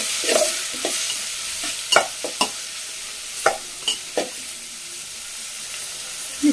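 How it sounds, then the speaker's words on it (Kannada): Chopped tomatoes and vegetables fry in a pan for vegetable upma, a steady bright sizzle broken by a handful of sharp spatula scrapes and taps, close up with no voices. "ಸ್ವಲ್ಪ ಇದು ಫ್ರೈ ಆಗಲಿ."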